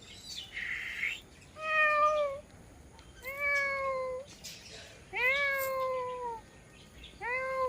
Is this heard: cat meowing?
yes